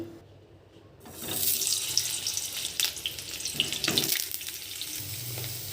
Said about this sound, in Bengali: কড়াইতে সর্ষের তেল দিয়েছি পটলগুলো ভেজে নেবো